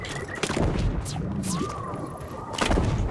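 A weapon blast in the video game Journey to the Savage Planet gives dull booming thuds and crashes with whooshing game effects, fairly loud and continuous over about three seconds.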